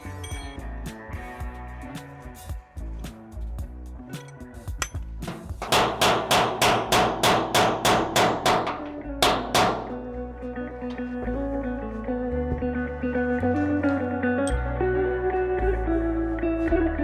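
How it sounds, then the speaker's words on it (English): A hammer and dolly shape and straighten race car body metal. Sharp, ringing metallic strikes come close, first in scattered taps and then in a fast, even burst of a dozen or so blows, followed by lighter working. "I'll just come around this whole edge with hammer, dolly, slapper, clean it up"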